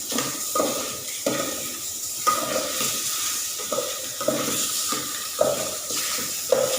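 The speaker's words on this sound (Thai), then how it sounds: "น้ำมันหมูออกจากอันหมูสามชั้นเองแล้วก็คั่วไปเรื่อยๆมันก็ออกเลย" Pork belly stir-frying in a pan as its fat renders out, giving a steady close sizzle broken by repeated scraping stirs at an irregular rhythm, with no talking.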